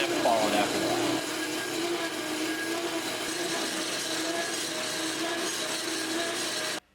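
A bandsaw blade grinds steadily through the weld on a Dana 44 axle's inner C knuckle, a loud continuous rasping whine up close that holds for about seven seconds before cutting off abruptly.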